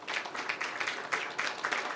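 An audience applauds for the Swedish International Development Cooperation Agency, a steady patter of many hands clapping at moderate volume throughout.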